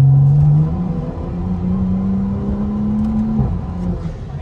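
A fast car's engine revving and pulling away, a loud, close droning whine that climbs, holds and then drops, with a low rumble beneath.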